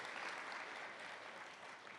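An audience at a couple seminar at a Christian satsang gathering claps, giving a dense, sustained burst of applause from many hands that is fairly faint and distant, with no speech over it.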